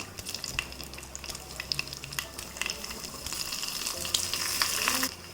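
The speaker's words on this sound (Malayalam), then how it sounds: "അപ്പോൾ ഞാൻ 1 ടീസ്പൂണ് കടുക് ഇട്ട് കൊടുക്കുകയാണ്." Mustard seeds sizzling and popping in hot coconut oil for a Kerala kadala curry, a close crackling fry with scattered sharp pops that grows louder and busier toward the end, nobody speaking.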